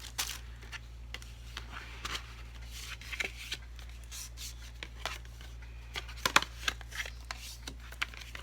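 Pre-cut cardstock sheets being pulled from a craft pack, a faint close run of papery rustles, slides and light taps over a steady low hum.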